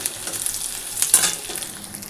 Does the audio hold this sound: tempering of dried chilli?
yes